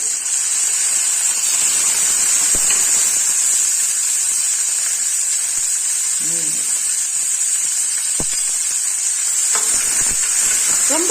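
A medium tomato goes into a pan of bitter gourd stir-fry, setting off a loud, continuous close-up sizzle with occasional clicks and light stirring scrapes, with no voices over it.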